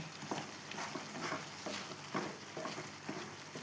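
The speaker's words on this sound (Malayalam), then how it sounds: "ബദാം പിസ്ത എല്ലാം ഇടുന്നുണ്ട് നിലക്കടലയും ഇടുന്നുണ്ട് എല്ലാം റെഡിയാണ് അപ്പം ഇനി നമുക്ക് നല്ല വൃത്തിയിലൊന്ന് ഇളക്കി കൊടുക്കാം" Almonds, pistachios and peanuts stirred in a pan, heard as quiet rhythmic scraping and rustling of the nuts against the metal, close but soft, with no voices.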